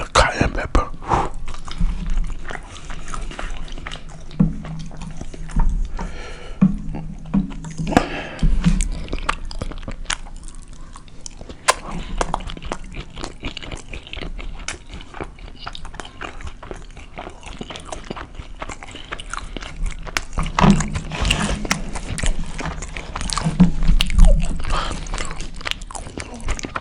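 Biting and chewing on big burritos with cayenne pepper, close-up mouth sounds of crunches and squishy chews repeating irregularly throughout, with some background noise.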